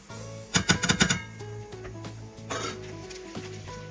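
Spices hit hot oil in a WMF Lono multifunction cooker while rajma is being made, setting off a quick burst of clinks and crackling sizzle. Softer scraping and tapping against the pot follow, and the whole clip is fairly quiet and close.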